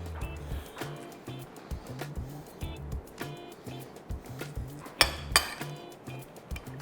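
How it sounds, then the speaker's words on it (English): Onion and vinegar mixture stirred in a bowl for a Kolkata egg roll, with a steady run of soft clinks and scrapes and a couple of sharper knocks near the end. "And then we're going to give this a lovely mix"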